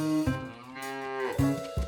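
Cartoon cows in a flower field moo loudly up close, one long drawn-out low call followed by shorter moos.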